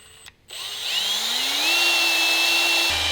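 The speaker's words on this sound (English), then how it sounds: "prime the oil system with the drill" A power drill primes a billet four-rotor engine's oil system, whirring steadily after a brief pause, its pitch climbing and then holding a loud, continuous whine until it cuts off at the end.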